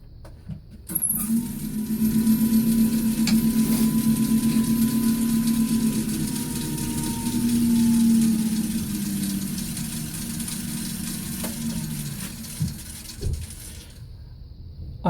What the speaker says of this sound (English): let's go ahead and do the final part and try it with this one, with the negative rake scraper.